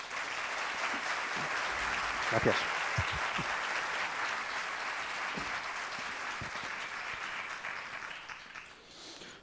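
An audience at a talk applauds for an author, sustained steady clapping that fades out near the end, with a brief spoken thanks heard over it.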